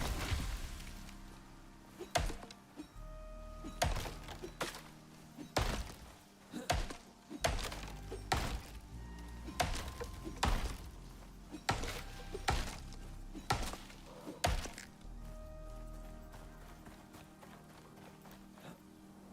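Axe blows chopping trees in the video game Icarus, a run of sharp thunks at irregular intervals, some in quick pairs, over a low steady background, loud and close with no talk.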